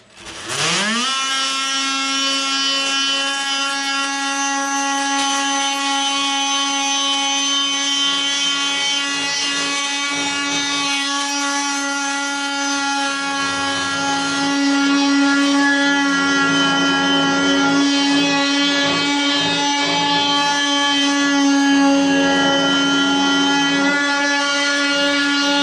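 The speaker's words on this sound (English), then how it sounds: "Got this Ryobi tool." A Ryobi power tool smooths the rear panel of a Ford Falcon XB GS, giving a loud, steady motor whine that holds unbroken for the whole stretch and swells slightly toward the end.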